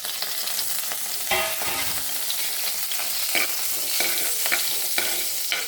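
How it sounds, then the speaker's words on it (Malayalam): Urad dal and roasted gram frying in hot oil for semiya upma, with a steady sizzle, stirring scrapes and a few sharper spoon clinks against the pan. "ഇതിലേക്ക് എടുത്തു വെച്ച ഉഴുന്ന് പരിപ്പും പൊട്ടുകടലയും ഇട്ട് ചേർത്ത് വെക്കാം"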